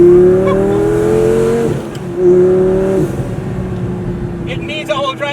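A cheap Lamborghini accelerating hard, its engine roaring loudly up through the revs in two long pulls with a brief shift gap, then settling; a voice speaks faintly under it near the end.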